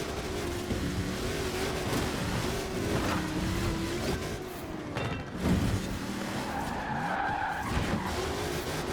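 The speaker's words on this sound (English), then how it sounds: "Drifting through the courtyard." A 1300HP Ford Bronco drifts through a courtyard in the racing game Forza Horizon 4. Its tires squeal in long, sustained skids over a steady engine drone, loud and continuous with no talking.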